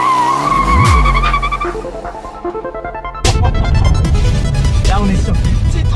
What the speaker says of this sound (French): on est sur une petite route de campagne avec du petit gravier qui l'a fait un petit peu glisser et drifter